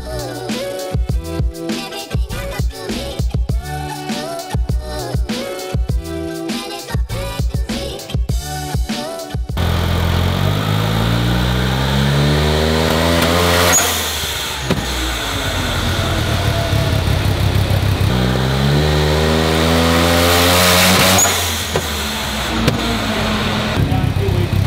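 A single-rotor rotary engine with dual ITBs runs loud and close, first with choppy, uneven pulses, then revving up and down in smooth sweeps, with voices heard in places.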